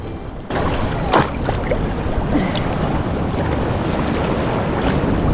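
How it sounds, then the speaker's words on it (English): Steady wash of surf and water rushing in at Arikok National Park, Aruba, with a broad rumbling hiss and gusts of wind noise throughout. "Look at the water coming in over there"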